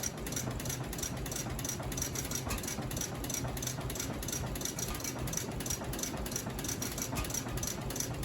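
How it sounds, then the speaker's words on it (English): An antique stationary gasoline engine with a water-jacketed, evaporatively cooled cylinder runs steadily, a continuous close mechanical drone with a fast rhythmic beat and no pauses. "They're a very simple engine and very, very reliable, which is why they were an early stationary gasoline engine."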